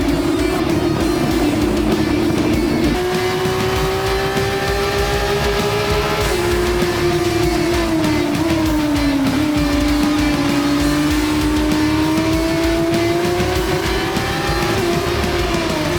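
Formula 1 cars launch off the grid at the start of a sprint race in Jeddah, a loud, dense wall of high-revving engine whine. The pitch climbs and shifts as the pack accelerates away at close range.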